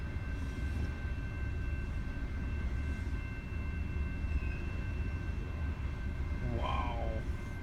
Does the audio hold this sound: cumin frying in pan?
no